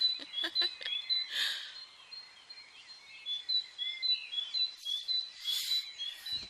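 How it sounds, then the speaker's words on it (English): Bright bird chirps and trills on a spring morning come in quick repeated bursts, fairly close and clear, with rustling noises in between and no other background sound. "you definitely can hear on the birds that also that spring is in the air"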